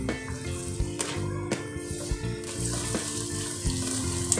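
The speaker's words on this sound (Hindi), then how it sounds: "सबसे पहले पैन में मैं ऑयल डालूंगी और प्याज शामिल कर दूंगी" Onions frying in oil in a pan for chicken achaar gosht, with a steady hiss and bubbling sizzle plus occasional scrapes and clinks of a utensil against the pan, close and moderately loud.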